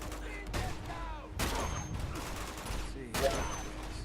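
Sniper rifle shots from Uncharted 2 crack out in three sharp, widely spaced reports over continuous game background noise, with people talking in between.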